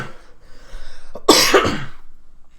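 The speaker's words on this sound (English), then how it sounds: "I got to like cough really bad" A single harsh cough, loud and close, from a person playing Marvel Contest of Champions, preceded by a quieter stretch of breathy noise.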